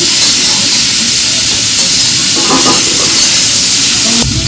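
Food stirred in a hot frying pan, a loud, dense, continuous sizzle and hiss, with a few stirring knocks breaking through and no voices.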